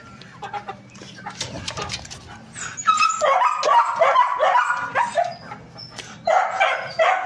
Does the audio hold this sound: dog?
yes